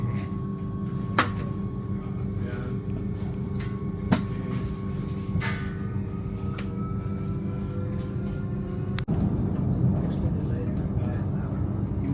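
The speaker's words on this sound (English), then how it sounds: "we are leaving Ben Gurion Airport train station, direction Jerusalem." Steady low rumble of a train departing Ben Gurion Airport station toward Jerusalem under constant interior hum, with a few sharp clicks and knocks along the way and people talking softly.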